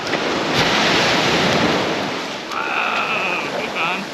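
Ocean waves wash onto a beach in Coffin Bay National Park, a steady broad rush of surf swelling and fading, mixed with wind buffeting the microphone.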